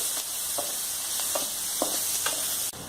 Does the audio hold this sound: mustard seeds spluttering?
yes